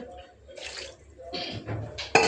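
Water splashes in short bursts as it is poured into a simmering fish curry in a home kitchen, three or four close splashes with quiet gaps between.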